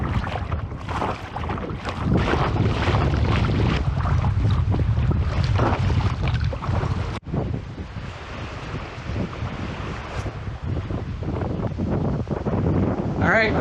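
Strong wind buffets the microphone on a boat out on the water, a loud continuous roar and rumble with gusts and a sudden dip partway through, no talking.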